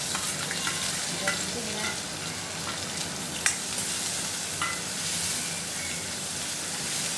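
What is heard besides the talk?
cumin, crushed garlic, green chili, ginger frying in pan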